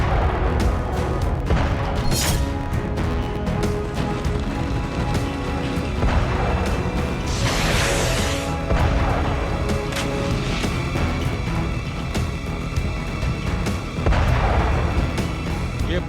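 Heavy rumbling blasts and booming shellfire in war-torn Bakhmut, a dense, loud, continuous barrage with several sharper bursts and crashes standing out.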